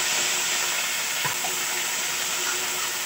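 Onion paste and crushed garlic fry in a pan as steady, even sizzling that fills the moment, with one faint clink of a spoon partway through and no voices.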